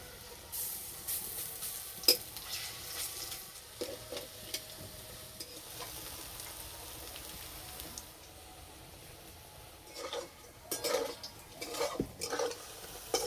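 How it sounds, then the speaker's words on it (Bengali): Taro flower fritters fry in hot oil with a steady, soft sizzle close by, broken by a few utensil clinks and stirring noises toward the end. "এই যে বড়াগুলো ভাজা হচ্ছে, খুব সুন্দর একটা সেন্ট বেরিয়েছে।"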